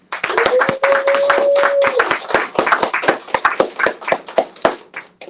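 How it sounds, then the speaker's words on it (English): A small audience at a poetry reading claps for a poet, a modest group of distinct, close hand claps that grow sparser and more separate toward the end. "please give a round of applause to Mr. Johnson"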